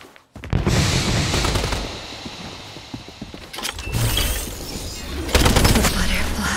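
Rapid bursts of gunfire from a 5v5 paper-style shooter match in Strinova, sustained volleys and automatic fire running nearly throughout, loud and close, with a brief lull midway before another heavy burst.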